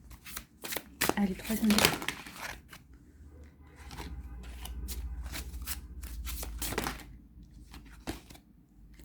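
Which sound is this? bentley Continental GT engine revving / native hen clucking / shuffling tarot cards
shuffling tarot cards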